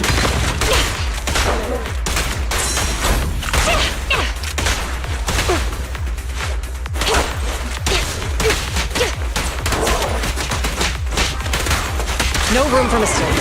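Sustained gunfire in the video game Zenless Zone Zero: dense, loud, rapid bursts of shots with whooshes and mechanical clatter, running nonstop under occasional voices.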